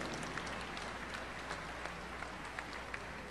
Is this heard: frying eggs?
no